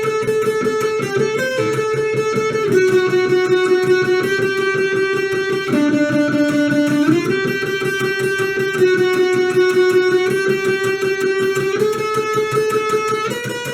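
Electric guitar solo from a song, a sustained, distorted lead line with bends and held notes over steady backing, loud and continuous throughout, no voices.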